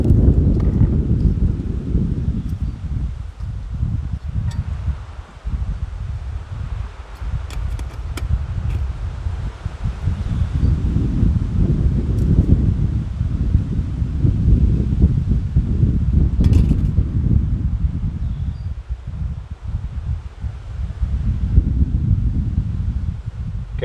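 Strong wind buffets the microphone outdoors without letup, a loud low roar with gusty swells and faint rustling while a kerosene stove is being lit with matches.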